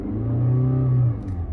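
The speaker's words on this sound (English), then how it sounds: "give the car a quick rev" A 2016 Toyota RAV4 GX AWD engine gets a single quick rev, a smooth rising hum that holds for about a second and then drops back toward idle, close and clear.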